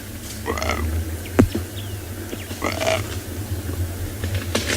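A wild lioness in the African bush giving low, croaky, frog-like grunting calls in a couple of short bursts over a steady engine-like rumble, fairly close.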